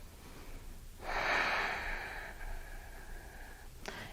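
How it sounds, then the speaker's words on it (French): A deep abdominal breath during a yoga session for the back: a long, close, breathy exhale that swells and slowly fades, ending with a brief sharp intake. "Respiration abdominale."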